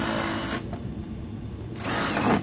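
A power drill bores into a cabinet toe-kick supply duct during a home HVAC job, loud and close. It whines in two bursts split by a short pause, with no talking.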